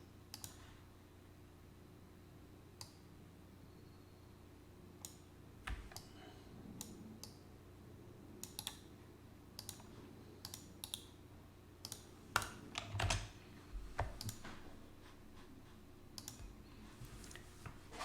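Computer keyboard typing and mouse clicking at a desk, faint sparse clicks and short key bursts spread across a quiet room tone, with no talking.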